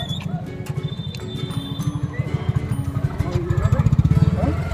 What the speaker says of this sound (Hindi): स्कूटर स्कूटी सब यहीं से निकल रही है और ये हिल रहा है बहुत ज़्यादा